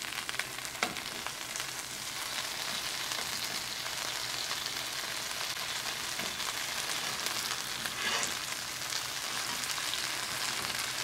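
A chicken quesadilla with melting cheese frying in a pan: steady, close crackling sizzle that holds continuously, with a couple of slightly louder pops and no talking.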